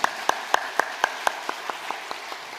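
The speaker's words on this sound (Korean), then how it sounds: "박수로 환영하겠습니다." Sparse, evenly spaced hand claps welcome duet singers at a Sunday church worship service, a dozen or so sharp claps in a steady rhythm that gradually softens and fades.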